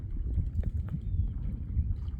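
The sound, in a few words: wind blowing outdoors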